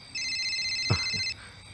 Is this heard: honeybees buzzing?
no